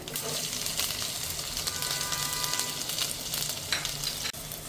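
Cumin and chopped garlic fry in hot oil in a home kitchen, giving a steady, dense sizzle that runs the whole time and breaks off briefly near the end.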